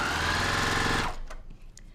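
A sewing machine stitching a quarter-inch seam on a quilt block, a fast steady motor whir for about a second before it stops, followed by a few faint clicks.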